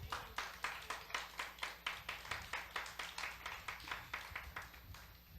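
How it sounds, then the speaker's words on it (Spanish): Steady rhythmic clapping from a church congregation, even beats repeating about four times a second and tapering slightly at the end. "Denle un aplauso a Cristo si eso es cierto en su vida."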